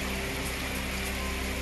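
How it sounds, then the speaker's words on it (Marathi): A dense, even roar of heavy pre-dawn monsoon rain falls over Kalyan-Dombivli, steady and unbroken, with a low mechanical hum running underneath. "कल्याण डोंबिवलीमध्ये पहाटे 5 वाजल्यापासून मुसळधार पाऊस"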